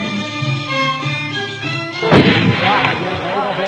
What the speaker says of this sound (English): the Sufyans welcome Sheikh Abdullah and the Amars, showing off their shooting skill